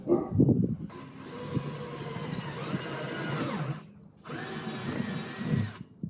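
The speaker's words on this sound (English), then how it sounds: "I'm gonna drill this hole" A power drill whirs steadily for several seconds, briefly stops, then spins up again, loud and close.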